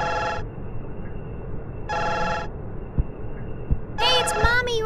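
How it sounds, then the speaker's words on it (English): Telephone ringing in the horror video game The Man from the Window 2, two clear electronic rings separated by a pause, followed by a short burst of speech. "Phone's ringing."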